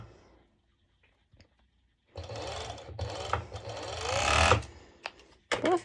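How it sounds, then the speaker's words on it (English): After a quiet start, a serger overlocks the fabric edge of a sporty top in a close, whirring burst that rises toward the end, stops briefly, then restarts, with a few small clicks between runs. "I just simply go over to my serger and I just"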